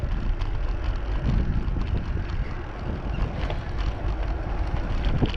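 Strong wind buffets and roars across the microphone while riding a bicycle outdoors, a steady, loud, low rumble filling the whole stretch with no talking over it.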